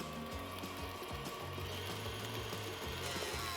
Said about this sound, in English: And now we're gonna cream this together for a minute or two.